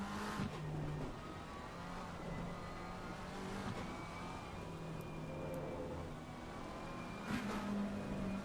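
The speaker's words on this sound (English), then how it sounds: "we are currently with a 720S GT3 Evo for a lap around Snetterton" A McLaren 720S GT3 Evo race car laps Snetterton in a racing video game, its engine droning steadily with rising and falling pitch, fairly quiet, and a faint tyre squeal in places.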